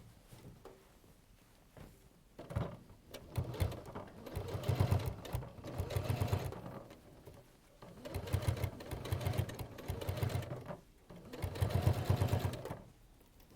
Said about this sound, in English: So I'll just top stitch on.